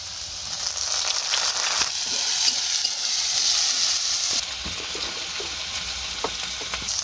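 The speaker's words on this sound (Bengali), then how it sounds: "পেঁয়াজটা হালকা লাল লাল হয়ে এসেছে, ঠিক এই পর্যায়ে আমি এখন দিয়ে নেব বাটা মশলাগুলো" Onions with ground spice paste frying and being stirred in a pan for a quail roast in a village kitchen, a steady broad sizzle with occasional utensil scrapes, close and continuous with no talking.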